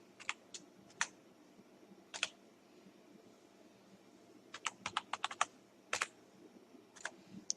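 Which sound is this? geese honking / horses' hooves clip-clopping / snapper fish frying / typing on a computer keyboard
typing on a computer keyboard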